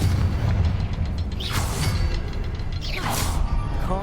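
The Confringo fire spell exploding in Hogwarts Legacy, a loud continuous rumbling blast with two sweeping whoosh-like surges, dense low booms throughout, no talk.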